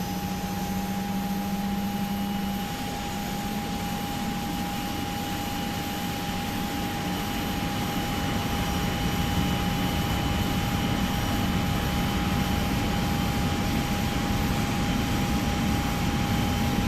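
Boeing 777 jet engine running in the PMDG flight simulator, a steady, loud, broadband roar with a sustained high whine holding unchanged throughout, no voices.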